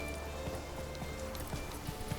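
Roach the horse gallops in The Witcher 3, faint rhythmic hoofbeats repeating at a quick, even pace beneath a low ambient background.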